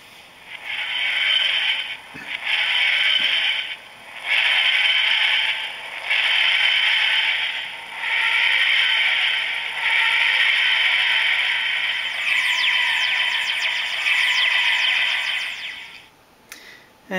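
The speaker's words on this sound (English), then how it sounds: "right now I have it programmed with the Tardis sound" A Doctor Who TARDIS materialisation effect plays from the sound module of a pop-up card: a rhythmic series of about six rising and falling wheezing surges, fairly loud and close, ending abruptly.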